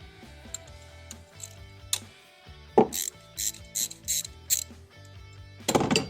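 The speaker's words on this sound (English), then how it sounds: "once the ratchet's done its bit" A hand ratchet undoes the T25 bracket bolt on the EGR valve of a Ford Transit Connect, giving several bursts of rapid, close mechanical clicking separated by short pauses.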